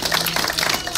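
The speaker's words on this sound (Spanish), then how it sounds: "Denle un aplauso al Señor." A church congregation breaks into brisk, dense applause, many hands clapping at once in a short, lively burst.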